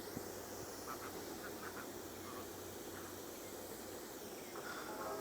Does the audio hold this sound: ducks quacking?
yes